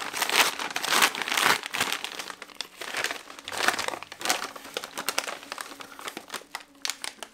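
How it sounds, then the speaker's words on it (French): A paper envelope is torn and crinkled open during a book unboxing, giving loud, close rustling and crackling bursts that come and go without talk. "Ensuite j'ai une autre enveloppe à ouvrir avec vous."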